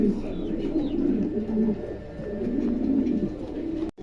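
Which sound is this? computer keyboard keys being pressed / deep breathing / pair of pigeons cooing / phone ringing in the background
pair of pigeons cooing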